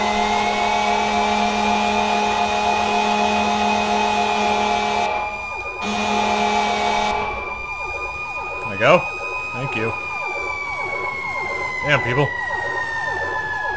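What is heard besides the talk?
fire truck siren in EmergeNYC video game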